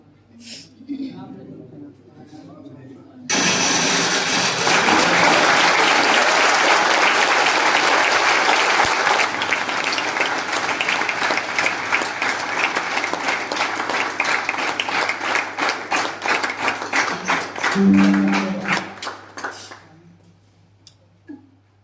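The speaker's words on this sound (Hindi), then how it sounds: "आ रहे हैं, तालियां जरूर बजाइए" A university audience breaks into loud, sustained applause welcoming an arriving guest, steady clapping filling the hall for about fifteen seconds before tapering off, with brief talk at the start and end.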